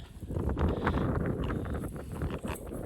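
Steady wind buffets the microphone, a loud low rumble with gusty fluctuations throughout, no voices.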